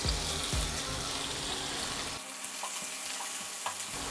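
Sausage sizzling and frying in a pan, a steady broadband crackle that carries on throughout, with a few soft clinks partway through and no talking.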